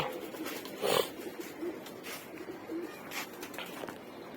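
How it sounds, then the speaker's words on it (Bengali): A male pigeon coos in short, soft bursts, with a louder call near the start and fainter coos later, over steady outdoor background noise. "তো মূলত ভিডিওটা করা হয়েছে অতিথি কবুতরটার জন্য।"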